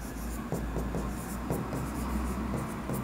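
A pen writes an accounting journal entry on paper: close, continuous scratchy strokes in short repeated bursts against a low background hum.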